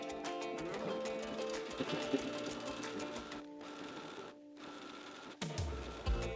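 Sewing machine stitching fabric strips together for a table runner, a steady close mechanical whir with rapid needle chatter, pausing briefly twice before running on.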